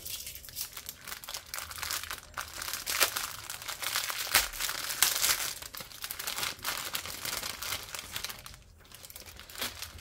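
Crinkly plastic packaging of a diamond painting kit being opened, with continuous close crumpling and rustling and a few sharper tearing crackles, no talking.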